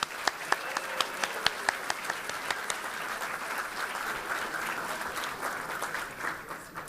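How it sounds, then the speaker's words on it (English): An audience at a gala breaks into applause, a few sharp individual claps at first, then a steady wash of many hands clapping together at moderate distance. "Raise your hands, everybody, and let's give them a round of applause."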